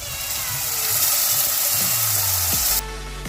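Tomato and cashew paste sizzles loudly as it hits a hot pan of oil for a Gujarati cauliflower-potato curry, a steady close frying hiss with brief stirring clatter, then a sudden drop as the sizzle dies down.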